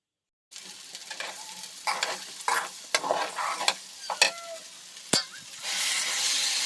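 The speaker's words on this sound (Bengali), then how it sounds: "হলুদের গুঁড়া আর লবণ দিয়ে ভালোভাবে নাড়াচাড়া করে তারপর জল দিয়ে দেব।" A spoon stirs food frying with turmeric powder and salt, giving a series of close scraping strokes over a soft sizzle that swells into a steady hiss near the end.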